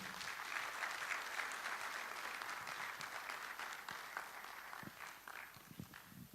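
Audience clapping at a medical college's annual general and scientific meeting, heard from a distance as a broad, steady patter that thins toward the end into a few scattered, distinct claps.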